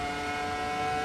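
Ferrari F2004 race car engines scream at Monza in AC Evo, a steady, high, sustained engine whine held close and loud throughout the brief moment, with no talking.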